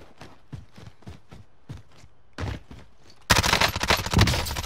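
Gunfire in the video game Call of Duty Warzone starts as a string of spaced single shots and quick pairs, then turns into dense, loud automatic bursts with a fast, continuous rattle.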